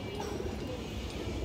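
Old-line racing pigeons with full-ring eyes cooing softly and continuously against a steady noisy background, fairly close.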